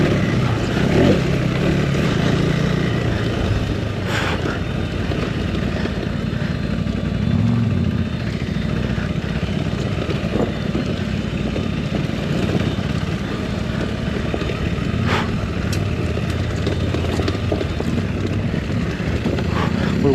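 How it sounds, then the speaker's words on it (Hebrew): A KTM 390 single-cylinder motorcycle, either the 390 Adventure R or the 390 Enduro R, is ridden off-road over loose rocks. Its engine drones steadily and loudly with wind rush throughout, and no talk is heard. "איזה אופנוע כיפי, מה זה?"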